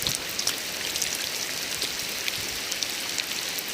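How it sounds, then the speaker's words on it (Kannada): Steady rain pours down in Belagavi, India, a dense hiss with scattered droplet taps on hard surfaces, close and continuous, no voices. "ನೋಡಿ ಮಳೆ ಚೆನ್ನಾಗಿದೆ, ಫುಲ್ ಮಸ್ತ್ ಬರ್ತಾ ಇದೆ"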